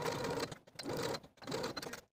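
A sewing machine stitches the side and bottom edges of dress fabric in three steady runs of rapid mechanical whirring, separated by short pauses, close and moderately loud.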